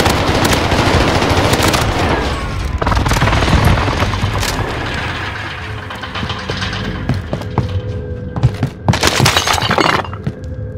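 Precision airstrike explosions pound the ground in Warzone, loud booming blasts with shattering debris and glass-like crashes, followed by scattered bursts of machine-gun fire and lingering rumble.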